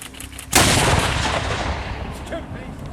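A single massive boom of artillery fired from ships hits abruptly, loud and close, then rolls away in a long, heavy rumble that seems to shake the ground.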